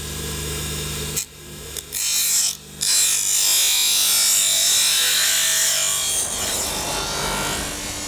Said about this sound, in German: Auf Maß heißt, dass das Horn gleichmäßig runtergeschliffen wird, auf 2 mm Dicke.